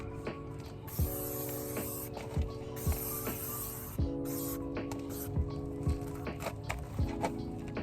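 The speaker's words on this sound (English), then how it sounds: "I got my spray sunscreen" Spray sunscreen being sprayed outdoors before a walk, with repeated hissy bursts of varying length standing out over a steady mechanical hum and clicking.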